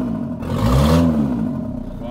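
A tuned bus engine with boosted power and larger injector nozzles revs up loudly and close, swelling to a peak and then settling to a steady, rough idle.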